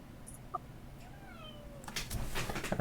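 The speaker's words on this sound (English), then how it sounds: "my cat wants to be let out." A house cat meows once in a long, rising and falling cry, fairly close and clear over low room noise, followed by some rustling.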